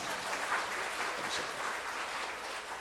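Applause from an audience at a Korean church testimony gathering, a continuous, even crackle of many hands clapping, moderately distant and steady throughout with no speech over it.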